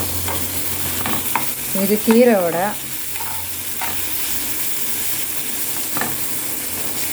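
Potatoes and onion stir-fry in a pan with a steady close sizzle and some scraping, while a brief voice speaks over the frying.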